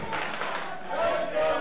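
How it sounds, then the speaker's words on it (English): Wrestling crowd at an independent match roaring and cheering for Krystal Moon, a steady broad wash of voices that swells louder toward the end. "Crowd rooting for Krystal Moon"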